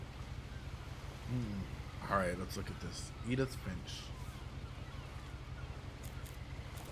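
Ocean waves at sea in the video game What Remains of Edith Finch, a low steady wash of water and wind, with someone talking over it.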